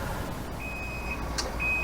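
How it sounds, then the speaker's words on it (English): A kitchen timer goes off while food bakes in an oven: thin, high electronic beeps sound in two short bursts over a low background hum. "There's our timer."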